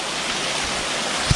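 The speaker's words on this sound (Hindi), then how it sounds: "और गार दरख्तों के जड़ों के बीच में से पानी आ रहा है।" Water runs out from between tree roots near a waterfall, a steady, broad rushing hiss close by with no gaps, ending in a faint low thump.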